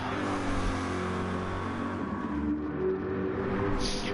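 Lamborghini and Chevrolet race cars run in a Gran Turismo-style racing game, with steady engine drone and revving that holds throughout, loud and continuous with no talk over it.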